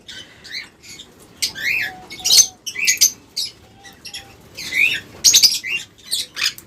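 Diamond doves and other small cage birds in an aviary give repeated sharp chirps and squeaky calls in bursts, with brief wing flutters between them, close and fairly loud.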